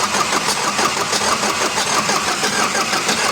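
An Isuzu 4HF1 diesel engine, just re-timed with its rocker arm refitted, cranks steadily and tries to catch, a dense rhythmic mechanical churn held at close range with no talk over it.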